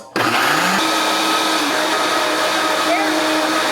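A Vitamix blender runs loud and steady while blending a smoothie, a continuous high-powered whir with shifting pitch as the contents churn, close up and alone.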